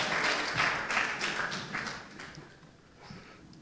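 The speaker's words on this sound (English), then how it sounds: "So let's applaud" An audience in a room applauds, a dense burst of clapping that gradually thins out and fades over a few seconds.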